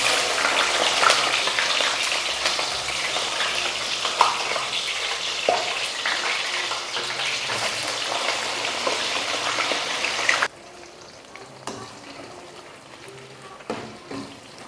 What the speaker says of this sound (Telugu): అలానే మిగిలిన ఈ బనానా ముక్కలను కూడా మనం ఆయిల్లోకి వేసుకుందాం.